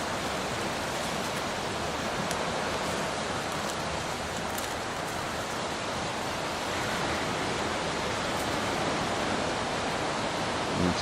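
Water rushing steadily along a creek at Deadman's Bay on the South Coast Track, a dense, continuous broadband wash heard close and alone for the whole stretch.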